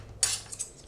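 Gerber CompleEATS camping spoon and spork clinking against each other as they are handled, a sharp metallic clatter followed by a few lighter taps, close and alone.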